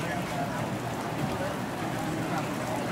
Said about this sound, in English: I think that it would sound better if I could hear the rain a little bit more than the actual coffee sounds